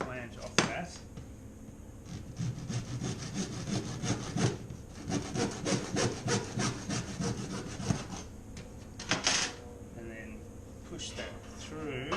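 A hand saw cuts the flange off a plastic irrigation pipe joiner, giving a steady run of rapid, close rasping strokes that continues throughout with brief pauses.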